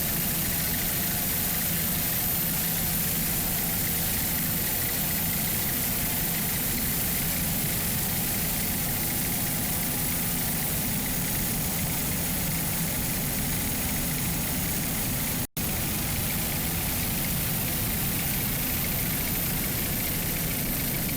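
Super Stock Cat Outboard racing powerboats roar at full throttle at the 2005 Fort Myers race, a dense unbroken engine drone that stays loud for the whole stretch, with one split-second cut in the signal.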